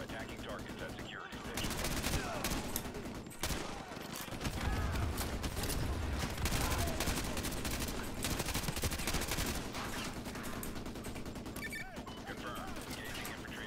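Sustained rapid gunfire in the Modern Warfare 2 Remastered campaign, dense overlapping bursts of automatic fire and distant shots running almost continuously under game voices.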